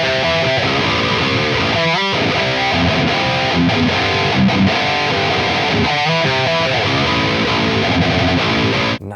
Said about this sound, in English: I'm gonna do the overdrive.